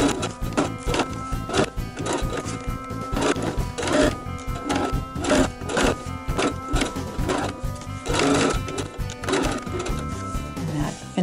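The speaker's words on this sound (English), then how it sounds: "we're going to go to the machine and we're going to sew close to the outside edge of the binding" Home sewing machine stitching along the outer edge of fabric binding on a tote bag, a steady rapid mechanical whir with regular needle clatter running continuously and close.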